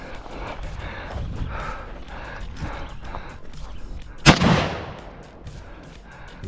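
Gunfire at an outdoor shooting range training complex: one loud, sharp shot cracks and rings out near the middle, over faint scattered thuds and rustling background noise.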